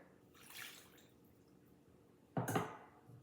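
A short splash of water poured into a bowl of pumpkin bread batter, soft and close, following a faint earlier trickle against a quiet background.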